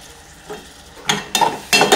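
Potatoes sizzling as they're stirred into hot oil with tomato and coriander for dal khichdi, three or four bright hissing bursts after a quiet start, close and crackling, no talk.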